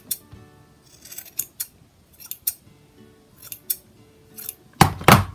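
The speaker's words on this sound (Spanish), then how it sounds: "y con unas tijeras que corten bien" Scissors snip through wool yarn while a fabric Christmas angel doll is trimmed, giving a series of close, crisp metallic cuts at irregular intervals with a louder pair of snips at the end.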